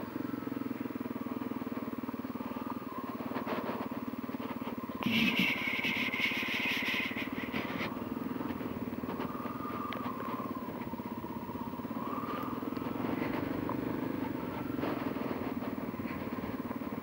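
A motorcycle cruises along a road, its engine a steady low hum heard from the rider's seat with wind noise, and a short brighter burst of noise partway through.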